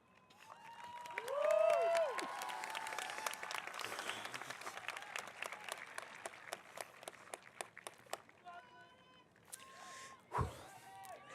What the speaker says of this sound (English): You guys cheering us on is GCC, guys.